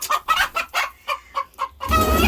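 A hen clucks repeatedly in short, loud bursts close by, ending in a longer drawn-out squawk with rustling and noise beneath it.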